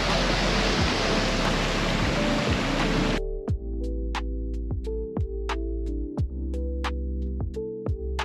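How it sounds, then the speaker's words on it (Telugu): A small waterfall on a trekking trail in the Los Dinamos forest near Mexico City gives a steady rush of water, and after a few seconds it gives way to quieter trickling with repeated sharp clicks and taps close by. "సో చూడండి వాటర్ ఫాల్స్."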